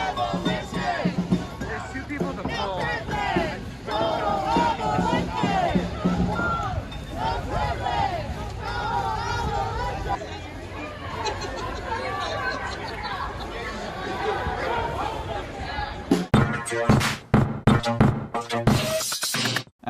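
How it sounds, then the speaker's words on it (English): A protest march in Tacoma fills the air with loud crowd chanting and overlapping voices that stay busy throughout. Near the end there is a quick run of sharp bangs. "Chants from the crowd as they shine lights into the apartment buildings along the march route in Tacoma."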